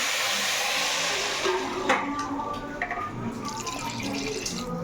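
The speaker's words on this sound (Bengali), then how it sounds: "এবার আমি গরম জল দিয়ে দেবো" Hot water is poured into a cooking pot of sautéed spice mixture, making a steady close splashing pour with a few light clatters toward the end.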